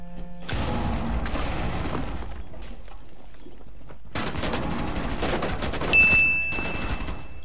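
Rapid video-game gunfire rattles in dense, loud bursts, broken by a short lull before heavy shooting resumes, with a sharp high metallic ping near the end.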